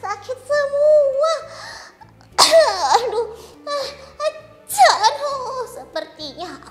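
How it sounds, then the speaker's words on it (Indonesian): Cartoonish voices with two sharp, exaggerated cough-like bursts, one near the middle and one later, between stretches of speech. "Sepertinya aku batuk dan bersin-bersin."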